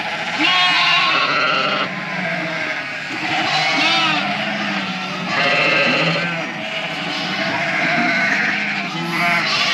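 A mob of ewes being wet-dried in farm yards bleat continuously and loudly close by, many overlapping calls rising and falling in waves, with no talking over them.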